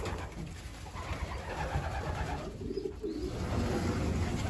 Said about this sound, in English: this will be day 3 of letting the young birds out